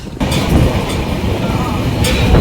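Train from Madgaon rumbling along the rails, a steady loud low roar of wheels and carriages with faint clatter throughout, close by and continuous.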